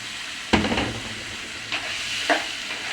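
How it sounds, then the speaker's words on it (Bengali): Rohu fish cooks in a pan of spice paste with a steady soft sizzle, broken by a few sharp stirring scrapes and spatters. "মাছটা আমি কিছুক্ষণ মশলার মধ্যে কষাই নেব"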